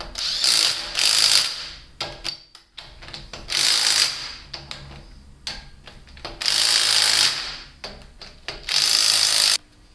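Bursts of rapid mechanical rattling from an impact wrench hammering a Volkswagen wheel bearing nut, several loud runs of a second or so separated by short pauses.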